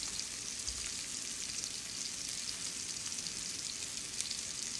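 Cuban frita patties frying in hot grease in a pan, a steady close hissing sizzle with light crackling pops throughout.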